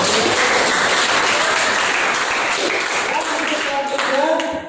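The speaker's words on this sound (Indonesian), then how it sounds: "tepuk tangan buat Malik" Applause in a class for a student named Malik, a continuous wash of clapping from a group of students throughout, with voices briefly audible as it tails off.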